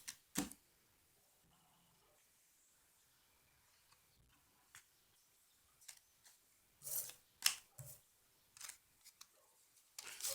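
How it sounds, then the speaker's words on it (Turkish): Playing cards shuffled by hand during a card-finding trick, soft brisk riffles and snaps in scattered bursts, quiet and close, with pauses of near silence between them. "Şimdi bunları böyle karıyoruz."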